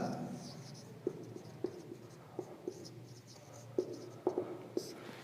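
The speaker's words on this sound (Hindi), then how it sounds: "आइए बच्चों जो डेटा हमें गिवन है वो लिखते हैं।" Pen writing down given data for a physics problem, faint scratching strokes with small taps as letters and numbers are formed, close and quiet, with no voice.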